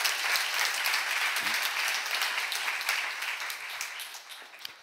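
A congregation at a church seminar applauds, dense sustained clapping filling the room at steady loudness and fading slightly toward the end.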